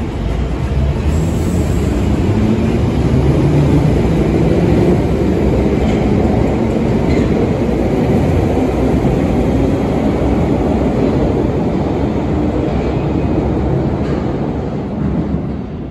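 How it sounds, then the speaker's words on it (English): A London Underground Jubilee Line 73 stock train departs with a loud continuous roar of motors and wheels, close and steady, and faint rhythmic clicks from its resistors sit beneath the drone. "When the train departs, a clicking sound can be heard"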